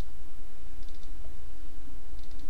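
Mouse clicks on a computer while a module is being generated in a software setup, a few short soft clicks in two brief clusters over a steady hum.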